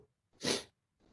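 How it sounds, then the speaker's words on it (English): One short, breathy sneeze bursts out in a quiet indoor setting, brief and fairly soft, with silence before and a faint breath after. "of course, I'm going to sneeze now"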